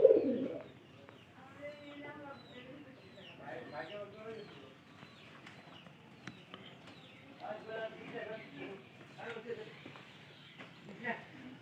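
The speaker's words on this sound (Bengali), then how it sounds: "তো গতকালকে আমরা সম্পূর্ণ খড় তুলে দিচ্ছি, তুলে দেওয়ার পরে কিন্তু আমরা কবুতরগুলো ছেড়ে দিছি।" Pigeons coo repeatedly through the whole stretch after being let out into a new straw-lined loft, a steady overlapping chorus of soft calls with scattered wing flutters and light shuffling nearby.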